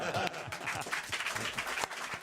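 A studio audience at a French TV game show breaks into applause, a dense continuous patter of clapping that stays at an even level, with voices mixed in.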